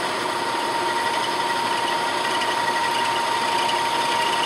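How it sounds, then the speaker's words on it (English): Milling machine fitted with a dividing head, set near 500 RPM to cut an aluminum spur gear, running with a steady loud mechanical whine and hum and no break. "We're going to go ahead and turn the machine on."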